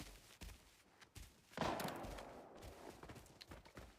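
Sharp bursts of gunfire in the video game Arena Breakout crack out over a noisy background, with a heavier volley around the middle that trails into scattered shots.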